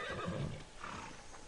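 A horse whinnies in the Assassin's Creed Odyssey video game, a short, fairly faint neigh over a steady game ambience.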